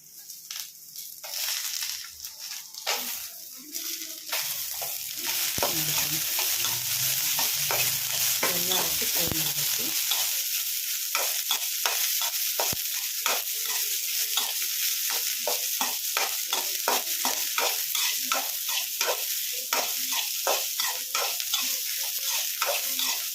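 Green chillies, garlic and ginger frying in hot oil for hotel-style keema sambar, a loud continuous sizzle with frequent scraping and clinking of a spatula stirring against the pan.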